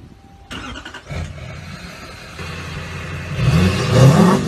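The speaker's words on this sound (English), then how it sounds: "get a buddy to start your truck" A truck engine starts up and revs, its rumble building and growing louder toward the end, with no talking over it.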